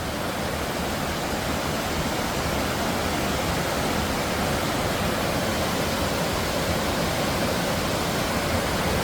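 A powerful waterfall roars in a steady, dense rush of white water, loud and unbroken, with no other sounds standing out.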